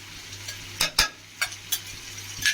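Masala for chicken donne biryani is stirred in a hot pan, with a few sharp scraping clinks of the spoon over a soft background sizzle, close and without speech.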